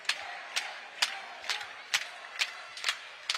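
A basketball crowd at the FIBA 3x3 Lausanne Masters final cheers and claps in rhythmic surges, about twice a second, as a steady chant-like pulse heard at moderate distance.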